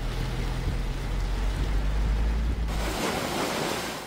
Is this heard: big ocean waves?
yes